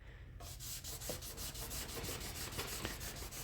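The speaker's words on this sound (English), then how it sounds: "That's why you sand a little and check." Hand sanding of a wood finish, a steady rhythmic back-and-forth rubbing of abrasive paper, close and fairly loud, beginning right after a brief quiet moment and continuing without talk.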